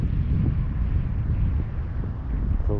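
Steady wind buffets the microphone at a lakeside fishing spot, a continuous low rumbling roar that holds loud from start to finish with no talk over it.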